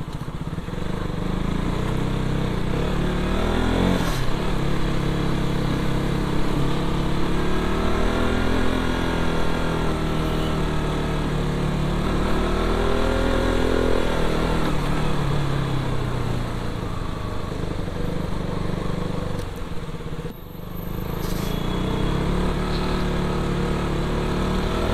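A KTM motorcycle engine runs steadily on a monsoon road near Mumbai, its loud, continuous drone rising and falling in pitch as the bike revs and shifts, with a brief dip near the end.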